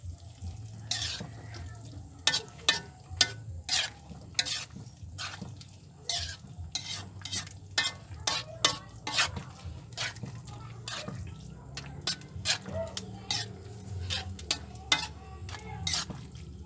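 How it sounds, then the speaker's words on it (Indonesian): A spoon stirs chicken soup in a pot, giving irregular metallic knocks and scrapes over a soft low rumble of heat, close and moderately loud. "Kita aduk."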